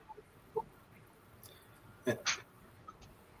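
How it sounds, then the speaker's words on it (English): Quail of a newly brought-in variety call on a farm also holding hundreds of chickens, giving a few short, faint chirps and a pair of louder clucking notes near the end against quiet background noise. "because I brought new quail in today, a whole new variety"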